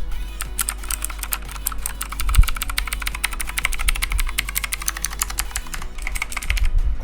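Rapid clacky keystrokes on a mechanical keyboard, steady and close, with a few louder thocks among the continuous typing.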